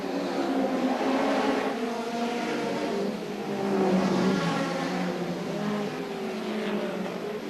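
Hot rod race cars at the 1978 Hot Rod World Final on a circuit, the leading three lapping the slower number 14 car. Their engines give a continuous, fairly distant roar that rises and falls as they pass.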